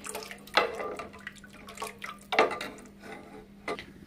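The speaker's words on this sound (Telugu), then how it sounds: "సో నేనైతే ఇంకా కొన్ని వాటర్ యాడ్ చేసుకున్నాను ఇందులోకి." Water poured into a cooking pot, with a few short splashes and light clinks of the pot spaced across a few seconds, fairly quiet and close.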